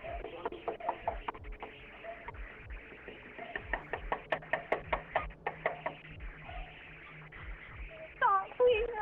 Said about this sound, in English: Knock.